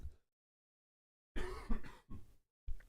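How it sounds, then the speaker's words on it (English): A person gives a weak cough after a silent pause, a few short, soft, breathy bursts close to the microphone, with a brief earlier sound at the start. "I keep feeling like I'm going to have a great cough, and then it's really weak."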